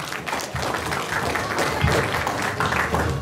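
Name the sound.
round of applause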